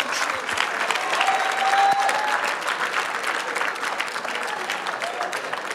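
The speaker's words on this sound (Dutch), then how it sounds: "Applaus." A hall audience at a Myles Munroe teaching session breaks into sustained applause, many hands clapping in a thick, even roar that stays loud for several seconds, with a faint voice or tone running underneath.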